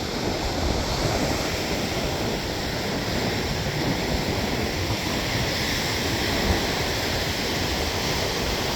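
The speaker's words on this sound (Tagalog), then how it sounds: "Grabe alon, no?" Heavy ocean surf roars continuously, a dense wash of big crashing waves driven by strong wind, loud and unbroken throughout.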